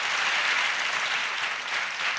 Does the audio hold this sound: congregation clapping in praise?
yes